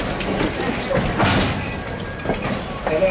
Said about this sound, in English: And as the train pulls in